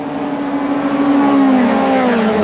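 An E1300 formula race car accelerates out of a curve on the Schleizer Dreieck circuit, its engine note loud and close, pitch climbing steadily through the gear as it pulls away.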